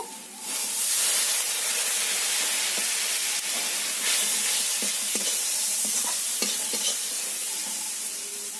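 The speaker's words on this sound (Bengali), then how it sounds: "সব মশলাগুলো ভালো করে ভেজে নেব।" Ground spices with Kashmiri chili powder and turmeric fry in a pan after a splash of water, giving a loud, continuous hissing sizzle with occasional scrape and stir knocks, close and without talk.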